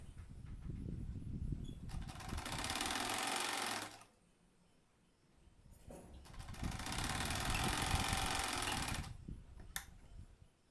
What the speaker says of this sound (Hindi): और पलटा करके एक और सिलाई लगा देते हैं।